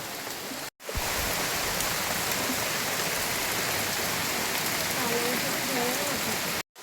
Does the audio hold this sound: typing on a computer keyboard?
no